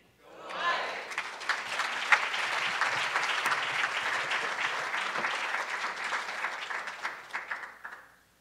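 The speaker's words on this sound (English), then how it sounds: "Let's give another round of applause for all the Alumni Award recipients." Applause at a scholarships and awards banquet swells quickly from quiet into a full crowd clapping, holds steady with some cheering voices, then thins out and fades.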